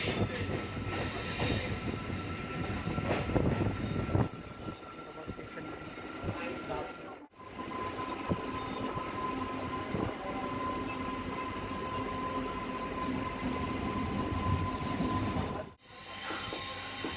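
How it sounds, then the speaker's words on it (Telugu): A MEMU passenger train travels from Secunderabad to Warangal, its wheels squealing and rumbling loudly and continuously on the rails, with two brief dropouts in the sound. "ఇప్పుడే ట్రైన్ అయితే కొద్ది స్పీడ్ అందుకుంది"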